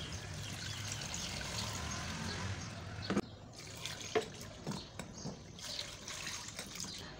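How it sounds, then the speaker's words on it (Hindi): Water poured into a pot over jaggery, a steady close pouring wash that gives way to scattered drips and splashes, with no talk. "अब मैं इसमें पानी डालूंगी।"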